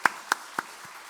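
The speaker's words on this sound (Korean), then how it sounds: "축하와 격려의 박수를 이병철 선생님께 한번 보내도록 하겠습니다" A few scattered hand claps from a church congregation applauding a teacher during a Sunday service, three distinct claps and a soft fourth spaced about a quarter second apart, close and sparse rather than full applause.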